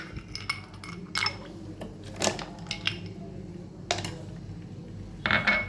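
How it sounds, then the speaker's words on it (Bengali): A few pieces of ice dropped into cooled milk for an Oreo shake, giving several bright, separate clinks and splashy knocks spread over a few seconds, close and clear, with no talking. "দিয়ে দেবো কয়েক টুকরো বরফ।"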